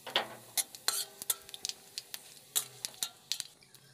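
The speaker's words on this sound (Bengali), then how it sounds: "ওই তেলেতে তেজপাতা, জিরে ফোড়ন, শুকনো লঙ্কা দিয়ে হালকা ভেজে নেব" Bay leaf, cumin seeds and dry red chili tempering in hot oil in a kadai, with short sizzling crackles and light spoon stirring and scraping against the pan, several quick bursts in a close, quiet kitchen.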